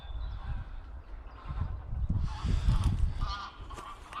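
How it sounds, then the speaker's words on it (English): Two geese squabbling in private woodland beside a small lake, with harsh honks and rough calls rising in bursts over a steady low outdoor rumble, loudest toward the middle of the moment. "Couple of geese having a ruck."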